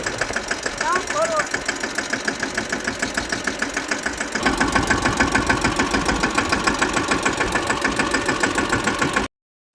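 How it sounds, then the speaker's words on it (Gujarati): A tractor engine chugs steadily nearby while ploughing a cotton field, with a regular knocking rhythm, growing a bit louder partway through before cutting off abruptly at the end. "આપણે ટ્રેક્ટર હાકી છીએ અત્યારે"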